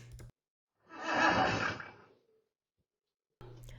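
A Belgian Draft Horse gives one loud, drawn-out neigh inside a barn, lasting about a second and a half, with short bursts of other noise before and after it.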